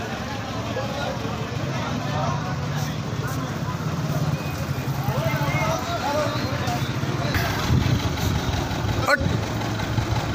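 A tractor engine idles steadily throughout, a constant low rumble with people talking over it outdoors.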